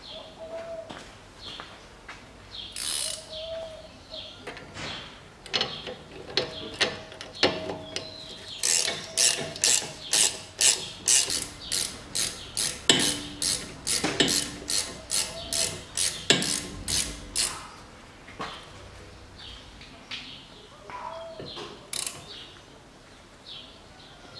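A hand ratchet clicks in quick bursts while tightening a strut nut on the front suspension of a 2007 Toyota Camry XV40 2.5, producing sharp, close metallic ticking strokes in uneven runs, with some brief bird-like squeaks between them.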